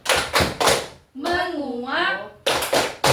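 Rhythmic clapping from a classroom of children during a Tepuk air ice-breaking clap game, a few sharp claps before and after a short spoken chant by a voice in the middle.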